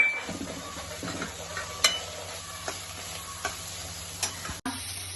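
Onion with peanuts frying in a pan for a Maharashtrian pithla, a faint steady sizzle broken by a few sharp stirring scrapes and clicks of a spoon, with no talking.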